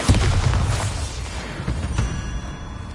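A Bombarda spell explosion in Hogwarts Legacy: a loud, close boom up front, then rumbling and crackling debris that fades away over a few seconds.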